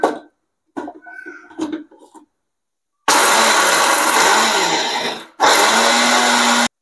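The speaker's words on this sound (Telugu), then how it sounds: "సో ఇప్పుడు మనము దీన్ని గ్రైండ్ చేసుకుంటాము." A mixer grinder jar grinds ghee-roasted peanuts in two loud, sustained bursts with a short pause between them. Brief kitchen clatter comes before the motor starts.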